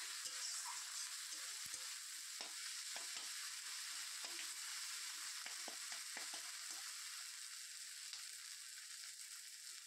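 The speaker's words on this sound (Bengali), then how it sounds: "এবার আমি কিন্তু মশলাগুলোকে খুব ভালোভাবে কষিয়ে নেব" Spice paste sizzles steadily in a hot pan as it is stir-fried for a fish-head murighonto, with a continuous bright frying hiss broken by occasional scraping stirs, no voices.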